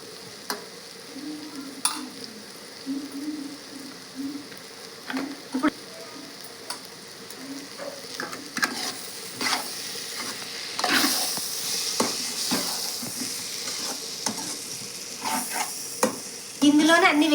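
Street-style egg noodle sauce stir-fries in a pan as red chilli sauce goes in, with a spatula scraping and tapping in a steady rhythm over constant sizzling that grows louder toward the end.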